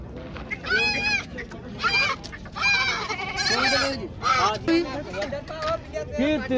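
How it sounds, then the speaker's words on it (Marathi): Several goats and kids bleat repeatedly at a goat market, overlapping high wavering cries close by, with background noise and some voices mixed in. "मित्रांनो पाहू शकता शेळी पिले आहेत ना"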